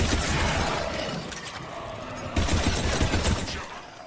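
A Mass Effect firefight fills the scene with loud, dense rapid gunfire, rattling bursts and impacts overlapping continuously with brief pauses, close and intense throughout.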